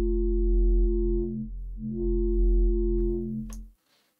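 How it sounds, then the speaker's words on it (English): A Serum synthesizer mid-bass tone for drum and bass in Ableton Live moves through a wavetable from a pure sine toward richer harmonics, swelling and shifting in a slow wobble before stopping with a short click near the end. "listen through our wavetable from the sine wave all the way through the extra harmonics"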